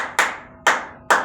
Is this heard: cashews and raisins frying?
no